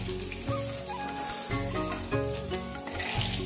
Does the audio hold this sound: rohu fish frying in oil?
yes